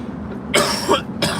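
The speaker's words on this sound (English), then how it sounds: "Excuse me, guys, for the coughing." A person outdoors coughs in two loud, harsh bursts close to the mic, with brief bits of low voice around them.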